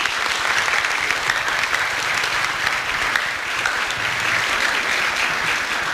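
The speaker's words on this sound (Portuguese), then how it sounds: "Vamos dar uma salva de palmas para ele também." Audience applause at a congress session welcoming a speaker, loud sustained clapping from a large crowd lasting the whole stretch.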